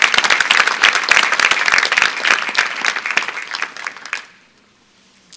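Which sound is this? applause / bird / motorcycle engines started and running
applause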